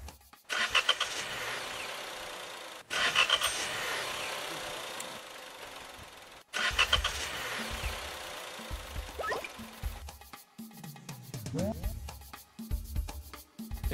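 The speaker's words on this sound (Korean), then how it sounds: "자, 시동 소리 갑니다." A car engine starting: several cranking bursts separated by brief gaps, then the engine catches and revs up, heard close and alone.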